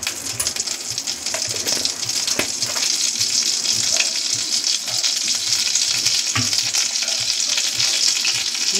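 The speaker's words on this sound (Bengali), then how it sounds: "ঘিটা গরম হয়ে গেছে, এবার কাজু কিশমিশটা দিয়ে দিলাম।" Cashews and raisins frying in a spoonful of hot ghee in a kadai, a continuous bright sizzle with stirring scrapes, close and steady throughout.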